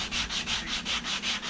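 Steady back-and-forth strokes of 320 grit sandpaper over the edges of a piece, about seven regular scratchy passes, close and alone.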